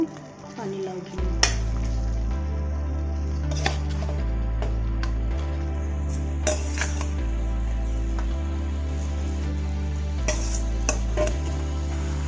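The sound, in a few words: boiled potatoes and bottle gourd added to frying fish curry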